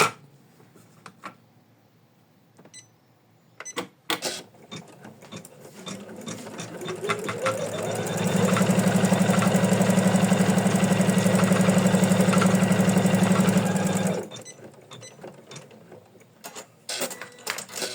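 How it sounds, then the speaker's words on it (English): An embroidery machine stitches a placement line on felt, rising from a low hum into a loud, steady whirring drone for about six seconds before stopping, with scattered mechanical clicks before and after. "So next, we're stitching the placement line again."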